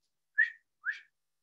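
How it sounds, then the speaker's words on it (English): Two short rising whistles from a person, fairly pitched and evenly spaced, heard alone against silence. "I can't whistle very low."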